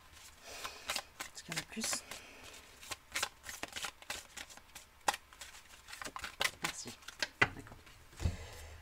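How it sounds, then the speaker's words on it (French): Playing cards are shuffled in rapid, crisp riffling bursts close by, with quiet talk in French between the shuffles. "Petit problème technique de mélange de cartes"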